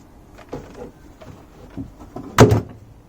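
A wooden door on a vintage sewing machine cabinet being restored, opened with a few faint creaks and then a single sharp knock or clack as it closes, near and alone in a quiet room.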